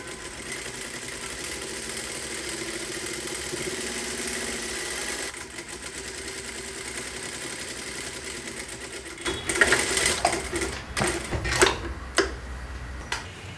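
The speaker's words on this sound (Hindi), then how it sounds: "इसे एक और स्टिच चलानी है।" Sewing machine stitching a four-dart blouse with a belt, a steady mechanical whirring run for about five seconds, then a quieter hum, followed by short irregular bursts of stitching and handling near the end.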